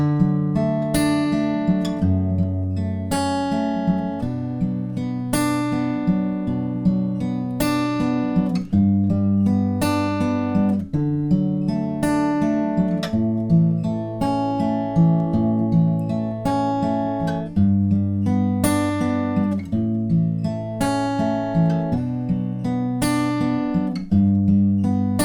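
Acoustic guitar fingerpicking the verse of a song, a steady, even picking pattern of plucked notes over bass notes through slow chord changes, close and alone with no talking.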